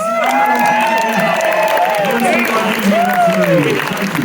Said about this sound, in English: Let's have a round of applause for the plus ones.